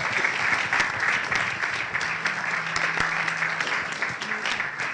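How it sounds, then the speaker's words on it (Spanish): An audience claps at a live event, a dense, sustained round of applause that stays loud and even for several seconds, with no voices standing out. "muchas gracias por vuestros aplausos"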